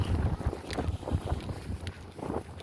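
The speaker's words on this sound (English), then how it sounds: "I don't know if that's even possible because the wind's kind of strong." Strong outdoor wind buffets the microphone in continuous low rumbling gusts that rise and fall, with no talking.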